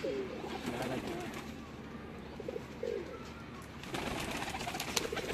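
A teddy pigeon on a rooftop loft coos in low, rolling bursts, with a few brief calls standing out near the middle, over steady outdoor background noise from the flock.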